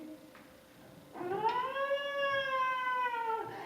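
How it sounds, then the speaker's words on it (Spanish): A siren sound effect in a radio drama: one loud wail rises sharply, then holds a steady, rich tone for about two seconds before cutting off, with no voices over it. "el ruido de una sirena"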